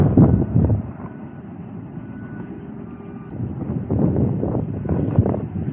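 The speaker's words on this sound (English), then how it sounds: "And it's windy. It's windy, cuz." Strong wind blows outdoors beside a trailer, gusting and buffeting the microphone in an uneven rumble that rises and falls, heaviest at the start and again near the end; no talking.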